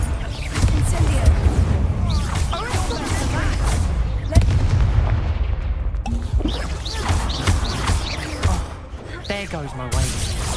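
Casting the Incendio fire spell in Hogwarts Legacy sets off a dense, loud stretch of booming, crackling blasts and whooshes that runs without a break, with someone speaking over the action.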